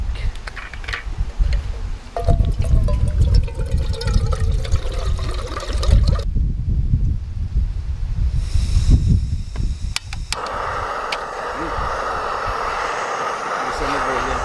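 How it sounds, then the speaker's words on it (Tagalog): Water poured into a mug of cup noodles gives a steady trickling stream, with muffled low-end handling noise underneath and a brief quieter gap midway. "Tapos lagyan natin ng tubig."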